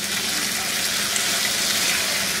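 Peeled, cut potatoes with a little salt fry over low heat in a pan with spices for potato and okra bhaji, giving a loud, close, continuous hiss that stays even throughout.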